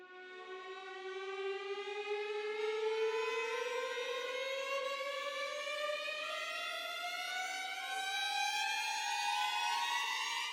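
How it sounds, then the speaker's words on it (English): A steadily rising tonal sweep climbs in pitch over about ten seconds, a loud, sustained siren-like swell building tension without pause. "And then some risers from Audio Imperia again with Constrictor."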